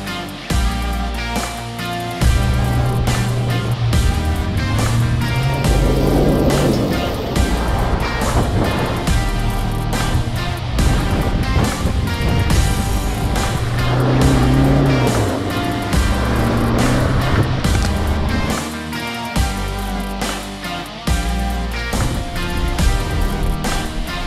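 A 2021 Ford Ranger Raptor pickup drives on asphalt, its engine a continuous loud drone with rising and falling pitch as it accelerates and shifts, mixed with steady road and wind roar throughout.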